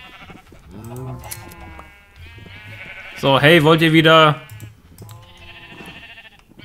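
Sheep in the Minecraft video game bleat in a loud wavering burst, with softer bleats before and after, while a voice talks over them.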